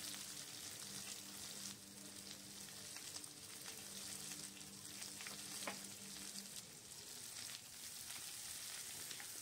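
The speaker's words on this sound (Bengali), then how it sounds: "পেঁয়াজটা ভালো করে ভাজা করে নিতে হবে।" Steady, close sizzling of onions frying in a hot pan, with occasional stirring scrapes and a faint background hum; no voices.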